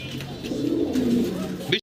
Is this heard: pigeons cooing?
yes